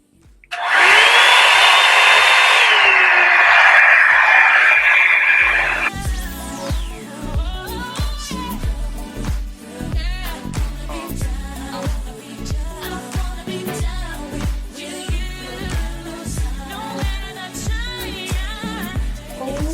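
A Revlon One-Step hair dryer blow-drying natural hair gives a loud, steady close-up whoosh for about five seconds, then cuts off as music takes over.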